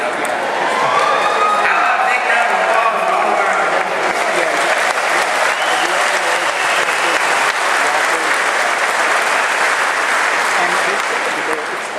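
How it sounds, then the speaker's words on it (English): An audience at a cooperative's annual stockholders meeting claps in sustained applause, dense and even from start to finish, fairly loud and close. "how about a big round of applause for all of our"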